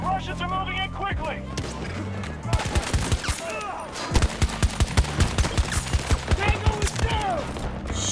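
Video game gunfire, bursts of rapid automatic shots, sharp and loud, pounding in a steady rhythm after a few seconds of quieter game sound, with a voice talking over it.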